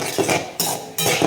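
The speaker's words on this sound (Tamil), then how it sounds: "நான் வந்து பூண்டும் கருவேப்பிலையுமா வறுத்துக்கிறேன்" Garlic and curry leaves fry in a pan while a utensil stirs them, giving a few close metallic scrapes and clinks with steady background noise, and no talk.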